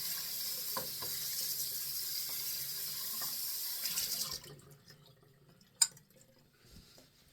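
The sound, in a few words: tap water rinsing out a shaving bowl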